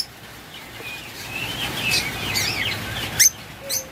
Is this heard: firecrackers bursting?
no